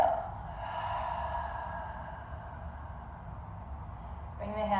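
Guided breathing during a beginner yoga class: one long, steady exhale runs through most of the stretch, soft and close, with a faint voice rising at the very end.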